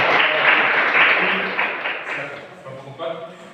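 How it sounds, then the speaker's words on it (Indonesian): Classroom applause from students after a group presentation, a dense burst of clapping that gradually thins and fades, with some voices mixed in toward the end. "Mari kita memberikan aplaus"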